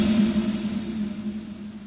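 A steady, faint hiss of low-level dither noise with noise shaping, a soft tonal hum persisting beneath it, fairly constant throughout and slowly fading.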